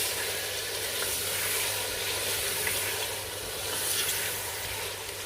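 Mutton pieces frying in a pan while being browned for biryani, giving a loud, dense, continuous sizzle and hiss that holds steady throughout with no talking.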